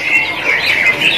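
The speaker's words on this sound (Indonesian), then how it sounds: "Untuk jenis burung terucukan Jawa Timur." A trucukan bird from East Java calls in a bird shop, giving a quick run of bright, close chirps and trills with no talking.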